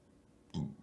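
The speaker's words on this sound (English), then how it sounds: "We're gonna get rid of hiccups." A single short hiccup from a man: one quiet, close, abrupt gulp that stands alone against near silence.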